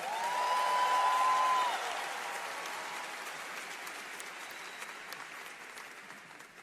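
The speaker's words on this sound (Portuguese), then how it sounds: "Pode aplaudir essa palavra mais forte?" Church congregation applauding during a sermon, a broad wash of clapping that starts fairly loud and gradually fades to a softer, steady patter, with a brief tone audible near the start.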